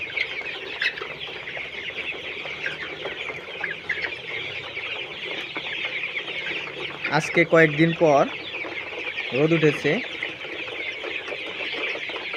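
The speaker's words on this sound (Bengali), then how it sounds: "মুরগিগুলো কত সুন্দর করে খাবার খাচ্ছে।" A shed full of Colorbird chickens clucks and chirps continuously while eating, with someone speaking over the flock partway through and a couple of louder calls standing out near the end.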